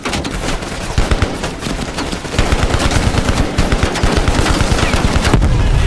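Dense, loud automatic gunfire in the Call of Duty Black Ops Cold War video game, rapid bursts of rifle and machine-gun shots firing continuously throughout, close and without pause.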